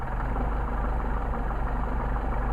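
An engine fitted with Solex carburetors idles with a steady, close rumble and a slightly uneven, throbbing pulse, alone without voices.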